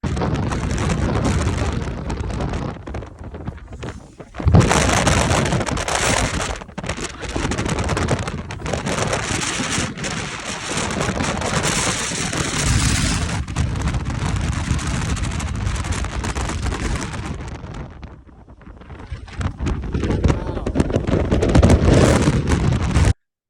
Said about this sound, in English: freaking wind gusting through.